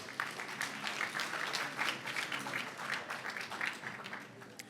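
At a Hall of Fame dinner, an audience applauds steadily with dense clapping that holds even throughout, fairly distant and moderately soft, with no voices over it.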